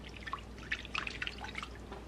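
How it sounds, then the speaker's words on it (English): Water is poured and dribbled from a small container into a pie crust, a short run of light close drips and trickles in a quiet kitchen. "Now, into the pie crust goes the water."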